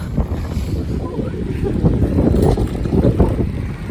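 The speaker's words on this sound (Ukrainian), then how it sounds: "А ось вітер є." Gusty wind roars and buffets the microphone in a continuous, loud low rumble with no pauses.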